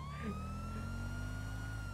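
Police sirens in the video game GTA V give a clear, steady electronic wail that sweeps in pitch and rings continuously and fairly loud for the whole moment.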